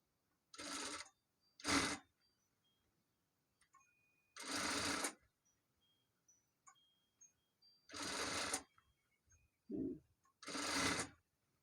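Several short, loud bursts of a sewing machine backstitching smocking on a sleeve cuff, separated by quiet pauses, with no talking.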